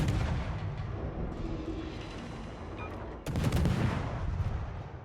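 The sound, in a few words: enemy ship firing shells at us in video game World of Warships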